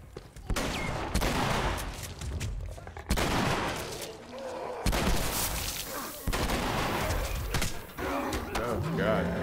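Rapid shotgun blasts in a video game, fired at mushroom-covered enemies, come as sharp loud bangs in quick bursts with brief gaps, and a player talks between them.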